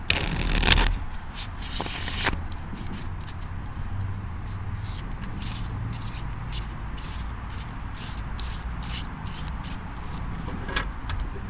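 Plastic Rider tarot cards are shuffled with a few brisk riffles, then a steady soft patter of flicking cards continues close by with no talking.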